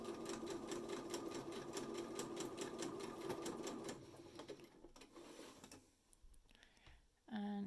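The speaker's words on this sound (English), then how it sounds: "And just do a straight stitch along the top." Sewing machine running a straight stitch along the top of a mini stocking advent bunting, a fast rhythmic rattle for about four seconds, then slowing and stopping into quieter handling noises before a brief burst at the end.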